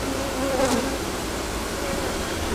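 Overwintered honeybees hum in a full hive box, a thick continuous buzz close by, with one brief louder bee passing near the middle and no speech.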